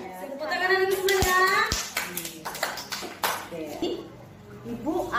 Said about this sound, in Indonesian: Tepuk tangan dan semuanya.